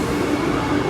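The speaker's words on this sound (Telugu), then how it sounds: "సో ప్రజెంట్ మన ట్రైన్ అయితే వచ్చేసింది అనమాట." Vande Bharat train pulling in at a station platform, a steady loud rumble of wheels and carriages filling the moment with no voices.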